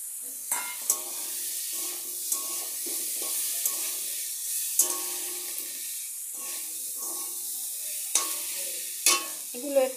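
Moong dal is stirred and fried in a pan, with a steady close sizzle under repeated scraping strokes of the spoon and a few sharp clicks against the metal, with no talk.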